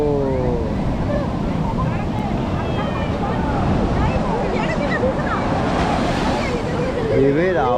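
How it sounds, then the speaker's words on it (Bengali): Ocean waves break and wash continuously on Puri beach at night, a dense, roaring surf close by with wind buffeting the microphone and faint voices of a crowd. "ঢেউয়ের আওয়াজ দেখো একবার।"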